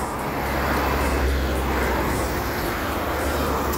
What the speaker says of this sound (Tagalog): daming lumilipad na aeroplano eh